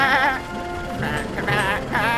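Sheep in a Shaun the Sheep horror video game bleat in a wavering, warbling chorus, several loud close calls overlapping and pulsing in short bursts across the whole span.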